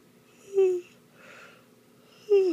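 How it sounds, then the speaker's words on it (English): A small baby, awake after a feed, gives two short squeaky yawning vocal sounds with a soft breathy exhale between them, close and fairly quiet. "Big yawn."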